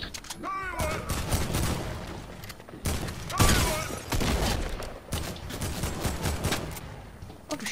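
Gunfire in the battle-royale video game Fortnite. Bursts of rapid shots and sharp reports come in clusters over several seconds. Some bursts sound close and loud, and a player's voice is briefly heard among them.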